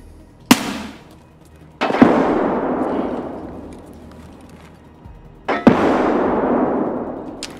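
Three sharp grenade blasts in Escape from Tarkov, each a loud crack followed by a long rumbling decay; the first stands alone, then two more come a few seconds apart.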